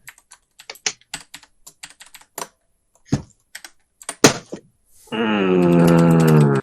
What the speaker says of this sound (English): Steven's typing to somebody.